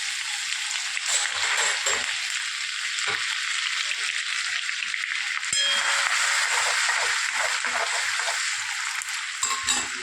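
Oil with cumin seeds and ginger-garlic paste frying in a pan for spinach sabzi, a steady close broadband sizzle throughout with a few faint utensil clangs.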